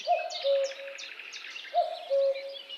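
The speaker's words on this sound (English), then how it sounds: "Cuckoo." A common cuckoo gives its two-note call twice, a clear falling pair of notes each time, with fainter chirping from other birds high above it.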